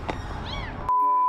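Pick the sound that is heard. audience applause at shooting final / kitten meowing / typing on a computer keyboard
kitten meowing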